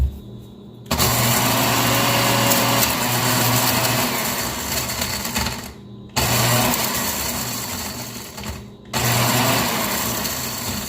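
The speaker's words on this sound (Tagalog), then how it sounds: "Ito yung aking gilingan." An electric grinder motor whirs steadily as it grinds dried chili into homemade flakes, running in three long bursts separated by brief pauses, loud and close.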